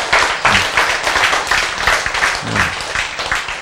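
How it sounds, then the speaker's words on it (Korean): A church congregation breaks into steady rhythmic clapping together, a loud close wash of many hands beating in time throughout, with a voice briefly heard underneath. "바로 이 죽은 개구리에게 다시 생명을 주신 하나님을 향하여 박수 쳐줘"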